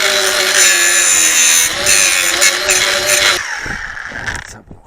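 An angle grinder cuts into metal with a loud, continuous, high whine that holds steady, then dips and rough-grinds before trailing off at the end.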